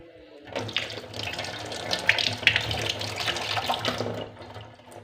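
Tap water runs steadily into a sink while ice cream sticks are rinsed under the stream, a continuous splashing flow lasting several seconds with no talk.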